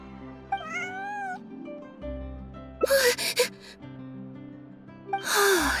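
A cartoonish cat meows over a looping electronic game melody, with a couple of short gasping bursts partway through and another at the end.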